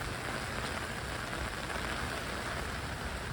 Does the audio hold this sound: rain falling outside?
yes